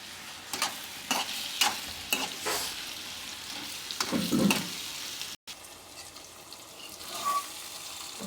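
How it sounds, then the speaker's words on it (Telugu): Large pieces of boiled potato are stirred into a simmering egg curry, with repeated scraping strokes of a spoon against the pan over a soft sizzle that settles into a quieter bubbling after a brief gap. "ఇలా పొటాటో వేసుకొని మిక్స్ చేసుకోవాలి"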